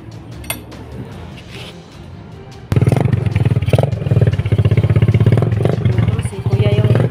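A motorcycle engine bursts to life partway through and revs loudly and close in rhythmic pulses, with people talking around it.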